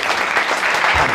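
Church congregation applauding and cheering loudly and steadily, a dense wash of clapping filling the whole moment with no talk over it.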